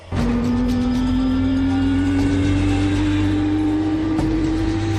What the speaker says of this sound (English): A victor started up, and another,